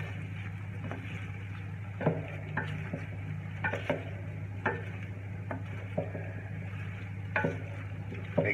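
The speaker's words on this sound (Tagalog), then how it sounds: "Then, halu-haluin lang natin." Shrimp frying in butter in a pan while being stirred, a low steady sizzle with scattered light clicks and scrapes of the utensil against the pan.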